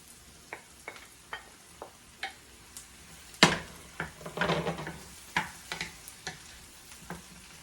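Eggplant frying with onion in a pan makes a quiet sizzle, broken by scattered clicks and scrapes of stirring, with one sharper knock midway.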